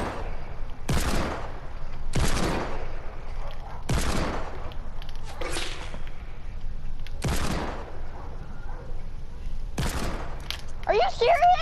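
Single hip-fire gunshots from a first-person shooter video game, about six sharp separate blasts spaced a second or two apart, loud and close.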